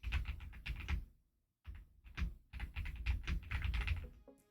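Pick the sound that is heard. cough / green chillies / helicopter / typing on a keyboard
typing on a keyboard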